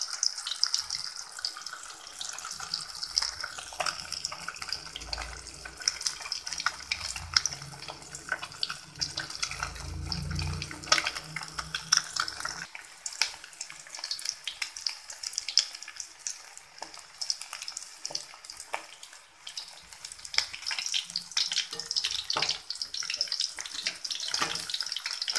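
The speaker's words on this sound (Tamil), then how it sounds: "எண்ணெய் சூடாயிருச்சு. இப்போ நாம் இன்னும் ஒன்று ஒன்றா பொரிச்சு எடுத்துக்கலாம்." Fish fries in hot oil, crackling and spitting close by with dense irregular pops that run for about twenty-five seconds and briefly thicken into a louder bubbling roar near the middle.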